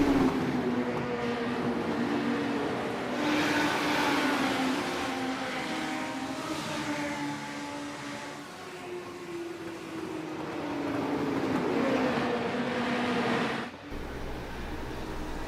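Legends race cars at New Smyrna Speedway race past in a continuous engine drone whose pitch rises and falls through the turns, heard from a distance with no talk.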